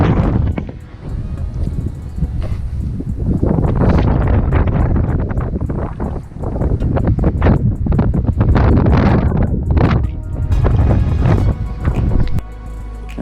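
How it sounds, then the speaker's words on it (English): A strong wind gust buffets a microphone outdoors while fishing, roaring broadband rumble rising and falling loudly across the whole span with brief dips before easing near the end. "Here comes another gust."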